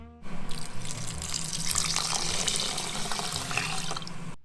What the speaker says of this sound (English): So I'm gonna do 3 cups of water.